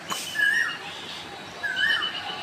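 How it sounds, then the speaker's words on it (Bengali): An Asian koel calls in spring during its breeding season. Two clear, rising whistled calls sound about a second apart, fairly near, over a faint hissy background. "বসন্তকালে কোকিলের ডাক"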